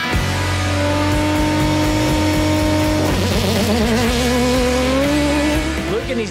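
An off-road race car roars loudly and continuously as it pulls away in a race, engine pitch climbing and shifting through gears, close and dominant throughout.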